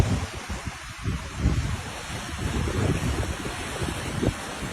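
Water released through the spillway of the Moragahakanda dam rushes in a steady, broad roar, with gusts of wind buffeting the microphone throughout.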